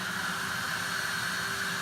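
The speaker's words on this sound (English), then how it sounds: "we'll suck up all the junk with the shop vac now." A shop vacuum sucks debris from a koi pond, a steady, loud whooshing suction roar with a faint whine, constant and unbroken throughout.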